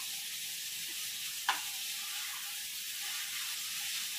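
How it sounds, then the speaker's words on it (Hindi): Tomato and carrot pieces, salted, sizzle steadily in a pan over a high flame, with a single short clatter of stirring partway through a continuous close hiss. "इन सब्जियों को हमें हाई फ्लेम पे 10 मिनट तक पका लेना है।"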